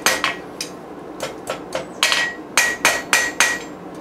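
Hammer blows ring out on a forged steel Dutch oven lid lifter held on an anvil, loud, close and metallic, some single and some in quick pairs, with a bright ringing tone after each strike.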